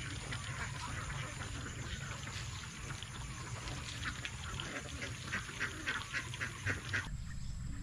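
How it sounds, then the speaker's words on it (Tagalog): Domestic ducks forage in a freshly harvested rice paddy, giving a chorus of overlapping quacks at moderate distance over an outdoor background that continues steadily throughout. "dito na lang po muna natin ipapastol itong ating mga alagang itik"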